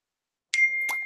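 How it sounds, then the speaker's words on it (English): A text message notification ding sounds on a phone, a bright plop-like chime with a sustained ringing tone, heard alone after silence. "I'm getting text messages."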